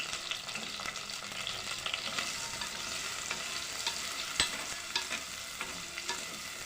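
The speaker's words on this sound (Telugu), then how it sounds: "పసుపు 2 టేబుల్ స్పూన్స్ వేసి కలుపుకుందాము ఒకసారి" Fried onions with turmeric are stirred in a pan, a continuous hissing sizzle with frequent scraping, clicking strokes of a spoon against the pan, close and steady, with no talking.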